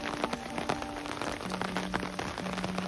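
Long, steady rain of moderate intensity falls continuously on surfaces, with dense drop patter and occasional louder individual drips nearby, no voices present.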